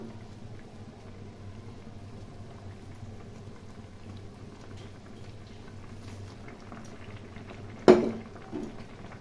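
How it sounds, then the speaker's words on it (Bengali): Bengali fish curry jhol bubbling in a pot on a gas stove, a faint steady simmer with soft bubbling, then a brief sharp clatter near the end, no talk. "দেখো বন্ধুরা, ঝোল আমার ফুটে গেছে।"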